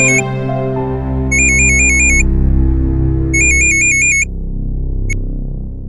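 A bright electronic ringtone chirps in two repeated bursts over a loud, sustained musical background, ending with a sharp click.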